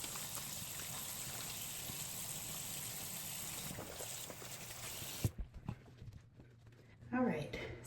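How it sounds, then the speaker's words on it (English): Hands being washed under a running tap, a steady broadband rush of water flowing for about five seconds, then cutting off abruptly, followed by a few drips and small handling sounds. "Wash my hands."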